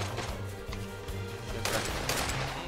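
Faint, distant 12-gauge shotgun blasts in the game Knives Out, a couple of sharp bursts over low droning background noise.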